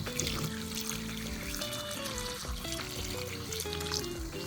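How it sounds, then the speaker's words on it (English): Water is poured into a vinegar pickling mix, a close, faint trickling and splashing that runs continuously with a soft bubbling texture. "Now I'm going to add water."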